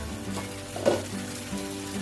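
Mutton with spices sizzling in a wok as it is stirred, a soft steady fry with a brief scraping stir near the middle, fairly quiet and close.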